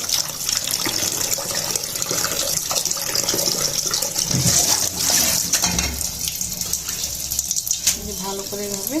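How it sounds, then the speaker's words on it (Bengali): Tap water runs and splashes steadily while helencha leaves are washed in a kitchen, with handling noise and a few clinks over the flow. "হেলেঞ্চা পাতাগুলোকে আমি ভালো করে, পোকা আচার যা ছিল সব বেছে ফেলে সুন্দর করে ধুয়ে নেব।"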